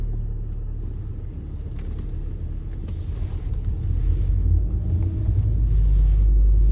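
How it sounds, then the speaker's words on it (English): An Audi S3 in dynamic mode driving in traffic gives a low, rumbling engine and exhaust note from inside the cabin, gradually growing louder and deeper, with faint wind noise and no talking. "the sound has changed because I put it on dynamic mode"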